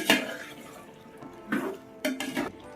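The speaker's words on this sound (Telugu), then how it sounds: "సో ఇప్పుడు దీన్ని కూడా మొత్తం కలిసిపోయేలాగైతే ఒకసారి కలిపేసుకుందాము" Stirring potato chicken curry in a metal pot: a few scraping, clinking spoon strokes with wet sloshing, close and moderately loud, in separate bursts with quiet pauses between.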